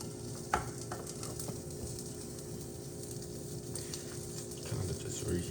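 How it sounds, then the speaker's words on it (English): Mushrooms and cherry tomatoes sizzle steadily in a frying pan on a home stove, a continuous hiss with a few clinks of stirring near the start and kitchen hum underneath. "it's sizzling."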